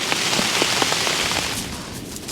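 Steady rain pattering during a sea fishing trip for flounder and plaice in West Sussex, a dense hiss with scattered sharper drop taps, close and continuous throughout.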